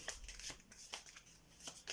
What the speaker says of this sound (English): So magician takes the cards and shuffles them normally